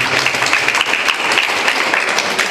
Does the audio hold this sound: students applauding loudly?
yes